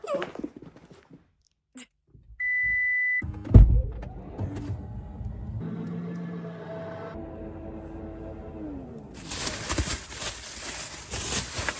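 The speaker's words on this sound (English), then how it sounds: "do you want to go for a ride in the car?" Sounds from inside a car preparing for a ride: scattered clicks and bumps, a whirring power window motor, then a rising engine and road rumble, with a burst of broadband noise near the end.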